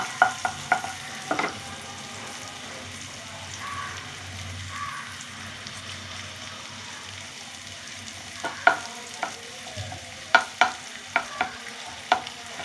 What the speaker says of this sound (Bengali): এবার আমি রসুন দিয়ে দিচ্ছি।